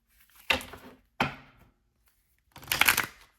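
Cards riffle and snap together in three quick bursts separated by pauses, close and crisp with no talking.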